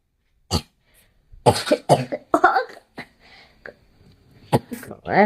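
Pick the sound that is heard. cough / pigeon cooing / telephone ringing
cough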